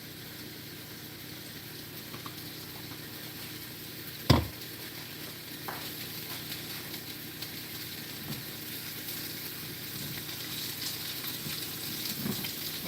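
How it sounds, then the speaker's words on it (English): Steak sears in a little oil in a cast iron skillet, a constant moderate sizzle with one sharp clatter early on and a few faint knocks, no talking. "we're getting a nice sear on our steak"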